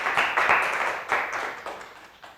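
Audience clapping after a scientific talk on electron microscopy, a short burst of hand claps with a few distinct strikes that thins out and fades over about two seconds.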